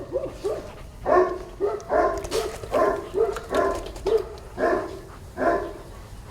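Repeated dog barks in a steady series, roughly one every half second to second, moderately close with a low background murmur.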